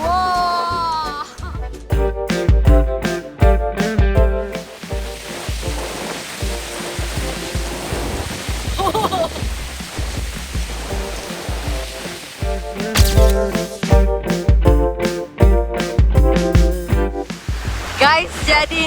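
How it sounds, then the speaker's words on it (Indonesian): Strong wind roars at a coastal viewpoint on Promthep Cape, a loud buffeting rush that fills the clip under and between bursts of spoken talk. "Kalian lihat ini anginnya lagi kencang banget."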